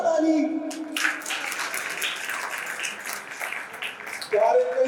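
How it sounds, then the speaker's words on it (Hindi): An audience at a sermon breaks into sustained clapping, a dense, moderately loud wash of applause with a voice speaking at the start and end. "बजा ताली।"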